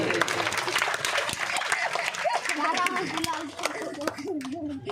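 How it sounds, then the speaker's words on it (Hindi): An audience at a religious katha gathering in Alwar claps steadily, a dense patter of applause that carries on under a voice speaking over it. "जोरदार ताली बजाइए"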